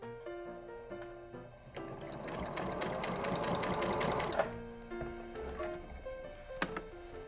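A sewing machine runs steadily while stitching across the bottom edge of a fabric apron, a continuous close mechanical whir, with a soft musical tone underneath and brief pauses near the start and end.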